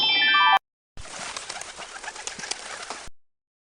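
A pigeon coos in soft, repeated throaty calls over a light background hiss, heard alone after a short descending electronic chime.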